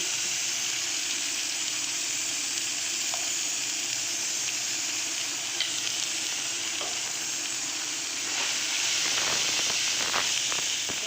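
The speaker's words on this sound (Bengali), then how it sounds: "আবার আদা বাটা আর কাঁচা লঙ্কা বাটা দিয়ে দিচ্ছি তেলের মধ্যে" Ginger paste and green chili paste sizzle steadily in hot oil in a pan, a close, continuous frying hiss that grows busier and crackly toward the end, with no voices.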